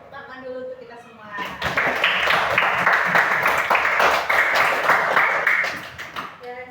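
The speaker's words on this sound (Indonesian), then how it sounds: "tepuk tangan dulu untuk kita semua." A class of primary school pupils claps together in a burst of loud, dense applause lasting several seconds, with talk just before and after it.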